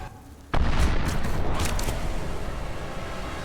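A sudden loud bomb explosion bursts out of a quieter background, then settles into a long, heavy rumbling tail that slowly fades.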